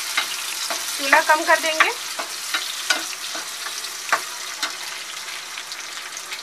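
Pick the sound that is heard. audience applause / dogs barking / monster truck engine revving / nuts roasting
nuts roasting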